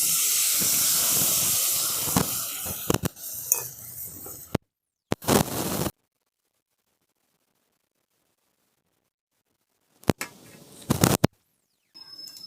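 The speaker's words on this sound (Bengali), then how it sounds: "দেখুন সর্ষে পোস্তর যে গ্রেভিটা ফুটে গেছে।" Mustard and poppy-seed paste gravy, with tomato, salt and turmeric, bubbles and hisses loudly in a frying pan, steady sizzling broken by sharp stirring scrapes, then dropping to silence before two more short sizzling bursts.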